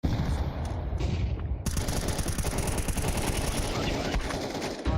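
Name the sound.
gunfire in the video game Counter-Strike 2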